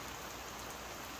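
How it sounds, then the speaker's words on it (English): Heavy rain pours down outdoors as a faint, even hiss of drops on surfaces, steady and unbroken through the brief moment with no talking. "It's absolutely chucking it down with rain"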